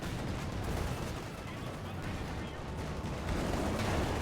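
Panzer IV-J tank in battle in Company of Heroes 2 on Lienne Forest, a dense continuous rumble of gunfire and artillery under a commentator's voice.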